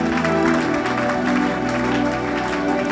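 A church congregation claps and cheers in dense, continuous applause that holds steady and loud for the whole moment, with a musical drone beneath and no clear speech over it.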